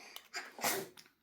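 A single quick sneeze bursts out after a short intake of breath, close and fairly quiet.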